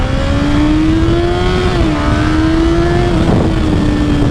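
A Kawasaki Ninja ZX-14r motorcycle engine revs loud and close, its steady drone rising in pitch, dipping briefly, then climbing again over constant wind and road noise.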